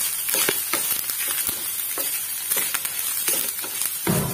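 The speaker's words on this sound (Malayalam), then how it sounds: "അപ്പോൾ നമ്മുടെ തേങ്ങയൊക്കെ ചെറുതായി ഫ്രൈഡായി തുടങ്ങിയിട്ടുണ്ട്" Grated coconut for upma sizzles in a pan while it is stirred, with a continuous bright frying hiss broken by repeated scraping strokes, close and fairly loud.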